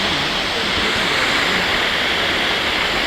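The secret waterfall at Dog Creek roars continuously and loudly up close, a dense steady rush with no breaks.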